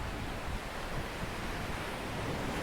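Surf rolling onto a beach on Koh Samui, a continuous broad wash of waves with some wind noise across the microphone, steady and unbroken with no talk.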